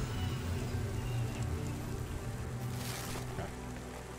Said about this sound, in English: Did a good job with the rain and the city noises and the music in the background.